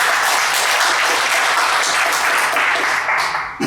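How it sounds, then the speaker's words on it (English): A workshop audience in Paris applauds in a steady, dense round of clapping that holds evenly, then tapers off in the final moments with a few last claps. "a round of applause, please."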